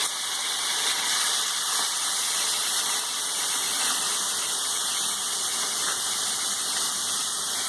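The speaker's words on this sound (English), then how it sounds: "Now we'll add our onions, chopped onion," Chopped onions sizzling as they sauté in a pan with fenugreek and mustard seeds, a loud, steady, broadband hiss and crackle that runs unbroken from start to finish.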